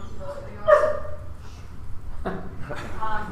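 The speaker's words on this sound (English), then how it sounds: "My dog has commented." A dog gives a single short bark in the background of a live-streamed city meeting, muffled and followed by faint yips, mixed with room noise and people talking.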